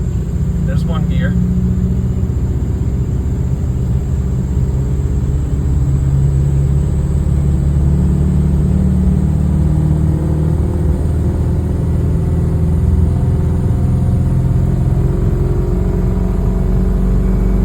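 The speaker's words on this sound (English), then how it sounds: "everybody's asking me why I'm driving this down the road in front wheel drive" A Ford Super Duty truck bought non-running is driven down the road in front-wheel drive only, through the front drive shaft. Its loud, close engine holds a steady drone that builds slightly as it gathers speed.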